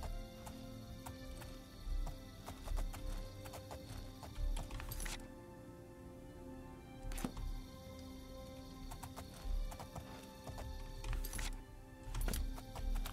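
Horse hoofbeats in the video game The Elder Scrolls IV: Oblivion, a rhythmic clip-clop of hooves repeating at a steady pace over faint game ambience, low and fairly quiet.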